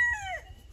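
A chicken gives a single sharp, close squawk that trails off in under a second, with no other sounds around it.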